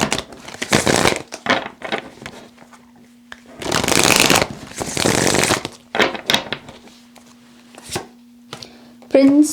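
Tarot cards are shuffled in crisp, papery bursts, with short flicks and two longer riffling runs, loud and close, while a faint steady hum sits underneath.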